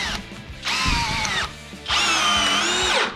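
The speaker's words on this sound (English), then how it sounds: "let's try the Phillips bit with a standard drywall screw now" A 20V brushless drill with a Phillips bit drives a long drywall screw in two whirring bursts, the motor pitch sagging slightly under load, loud and close with no talking.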